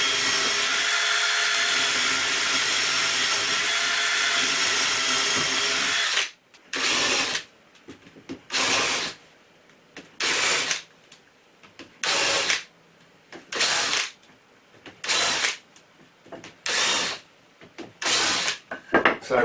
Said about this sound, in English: So we just countersink those